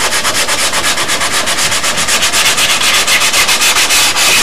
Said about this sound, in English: I have that pointed tool, that sanding tool. That really comes in handy then.